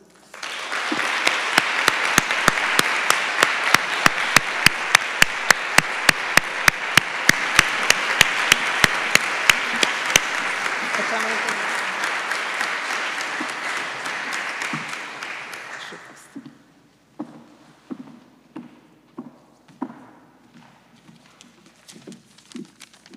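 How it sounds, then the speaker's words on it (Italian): An audience at a University of Padova event applauds a woman being honoured: loud, dense clapping with strong, regular beats runs for about fifteen seconds, then thins to a few scattered claps. "anche un grande applauso"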